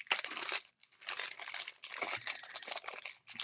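A gift package being opened and unwrapped, with loud, close bursts of crinkling and crumpling wrapping in several short rounds separated by brief pauses, and no talk.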